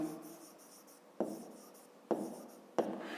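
A pen scratches out numbers by hand in soft, close strokes, with three sharper taps as new digits start. The scratching is faint but clear against a quiet room.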